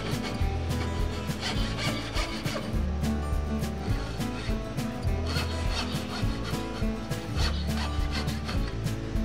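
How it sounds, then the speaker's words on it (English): A coping saw cuts waste wood from a shelf piece with steady, rasping back-and-forth strokes, close and continuous with a rhythmic push-pull grind. "Then we'll take the coping saw once again and remove the waste."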